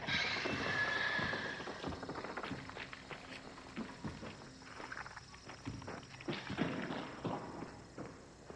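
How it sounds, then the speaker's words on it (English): Footsteps in the video game Hunt: Showdown, a faint, irregular series of soft thuds and scuffs moving at a steady pace beneath a low ambient wash, with no loud nearby impacts. "So there I hear some footsteps."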